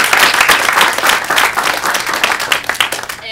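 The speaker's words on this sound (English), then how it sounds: "One more round of applause for these guys." An audience applauds after a finance portfolio presentation at a university event, a dense, loud and steady burst of clapping from a full room that carries on throughout before trailing off at the end.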